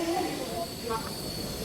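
Steady rumbling hiss of a local train passing close by, a continuous mechanical roar with faint squeals and background chatter.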